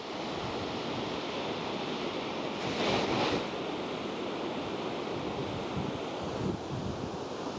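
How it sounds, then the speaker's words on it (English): Rough ocean surf rolls in hard at Playas de Tijuana beach, a continuous loud wash of breaking waves with wind buffeting the microphone and a stronger surge partway through. "Looks like the tide's coming in pretty hard right now."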